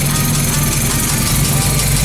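A Honda Civic engine idles nearby, a steady rough rumble with constant vibration and no change in pitch.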